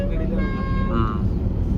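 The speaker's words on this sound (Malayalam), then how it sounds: "ഇതാണ് പുള്ളിയുടെ ഹോൺ അടിച്ചാണ് ശബ്ദമാണ് ഇപ്പൊ കേൾപ്പിച്ചത്." Horn of a modified Isuzu jeep sounding in a short steady honk, fairly loud and close, with voices talking over it and road traffic noise beneath.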